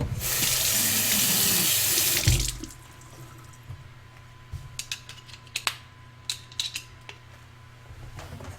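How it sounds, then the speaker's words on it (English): Kitchen tap water runs loudly into a sink for a couple of seconds while items are rinsed during baking, then stops, leaving quiet clinks and knocks of dishes being handled. "That needs to be rinsed too."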